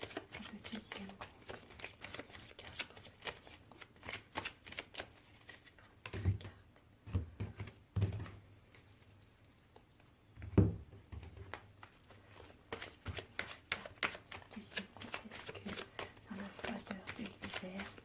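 Playing cards are shuffled, dealt and laid out in quick soft riffles and flicks, with a few louder snaps, while a person talks quietly throughout.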